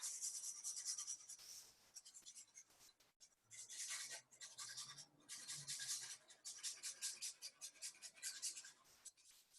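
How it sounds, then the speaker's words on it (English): Parmesan cheese grated straight onto a finished dish, close and quiet: bursts of dry rasping strokes in an uneven back-and-forth rhythm, broken by short pauses. "you want to grate a little bit of Parmesan cheese"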